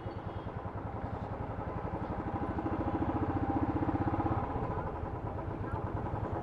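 A motorcycle engine idles close by during parking, a steady rapid chugging throb that swells slightly in the middle and then settles.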